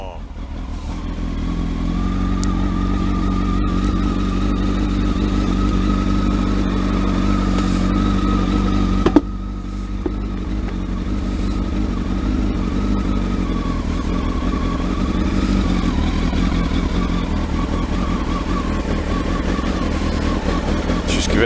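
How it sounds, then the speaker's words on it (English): A Kawasaki ZX12R motorcycle on a freezing day with the choke on runs at a close, steady, throbbing idle throughout, with a slight shift in pitch early on and a single sharp click near the middle. "choke on, let's see if it starts"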